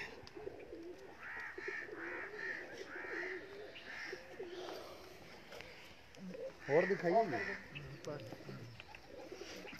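Pigeons coo in soft repeated phrases, with a louder burst of cooing near the end, while a person speaks briefly in the background.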